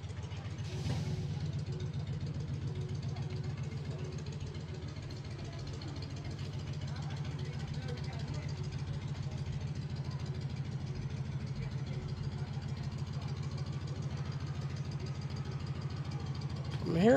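A truck engine idles at a street-corner accident scene where a car has rolled over, a steady low rumble running throughout with faint background voices and a brief louder burst at the end.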